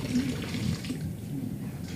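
Water runs steadily from a tap in a bathroom, a soft continuous wash kept at an even level for the whole stretch.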